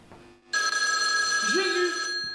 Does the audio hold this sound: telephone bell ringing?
yes